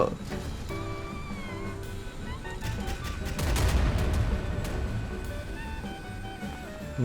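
Naval guns on the Pan Spatial Hexeres warship fire in the game Modern Warships, heard as repeated rapid bursts and booms with a heavier volley in the middle, while someone talks over the shooting.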